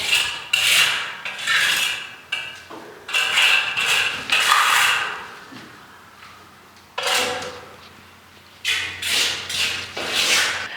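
A trowel smoothing fresh plaster on a bedroom wall in an 1834 restoration house, long repeated scraping strokes in bursts with short pauses, loud and close.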